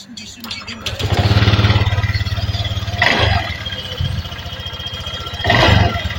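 A Honda Vario 125 LED scooter engine starts up after a valve clearance adjustment, cranking into a close, loud idle with revving surges, a mechanical clatter, and brief speech.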